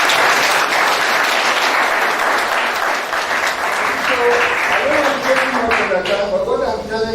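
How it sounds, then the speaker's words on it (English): Loud sustained applause from an audience at a 2021 matriculation ceremony, many hands clapping in a thick continuous roar close by, with a voice starting to speak over it toward the end. "Let's clap for that."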